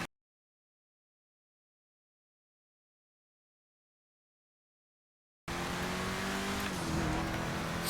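A Grotti GT750 sports car engine in GTA Online cuts in after a long silence, a loud steady engine note with a slight pitch shift toward the end.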